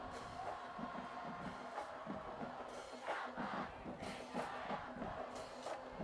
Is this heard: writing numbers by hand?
no